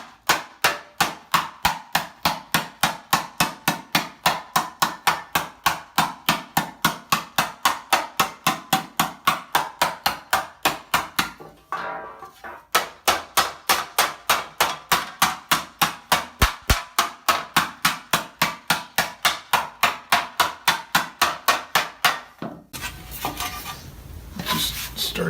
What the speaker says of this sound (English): I want to start stretching out the sides here to match